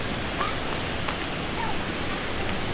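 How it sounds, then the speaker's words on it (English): A fountain beside a creek in a historic downtown park in Prattville, Alabama, gives off a steady, fairly loud broadband wash of splashing water with no break and no voices. "Got a fountain."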